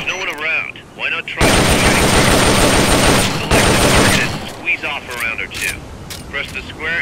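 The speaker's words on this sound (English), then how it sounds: "Select a target and squeeze off a round or two." A sustained burst of rapid gunfire rattles loud and close in Metal Gear Solid Peace Walker on PSP, lasting a few seconds between stretches of game voice talk.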